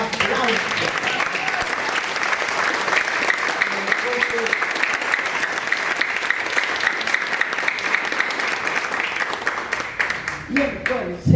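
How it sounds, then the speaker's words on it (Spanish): Audience applause at a forum on international affairs, a dense, steady wash of clapping that holds loudly for about ten seconds before thinning into scattered claps, with a few spoken words near the end. "Un aplauso."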